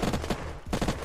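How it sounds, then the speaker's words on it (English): Rapid bursts of gunfire in the video game Unturned during a roleplay firefight, with two quick volleys of close, loud shots separated by a short gap. "All right, we're under fire"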